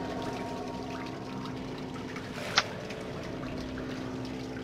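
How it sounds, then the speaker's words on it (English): Water in the horror game Outlast, a faint steady trickling wash with one brief splashy burst midway, no voices over it. "Water."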